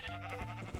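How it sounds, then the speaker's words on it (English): Sheep bleating in Minecraft, a steady wavering bleat that fills most of the short moment, close and clear with no talk. "here's the sheep pen"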